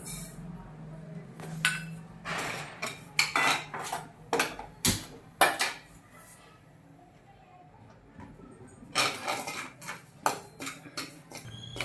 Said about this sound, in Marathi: पहिल्यांदा मी खसखस भाजून घेते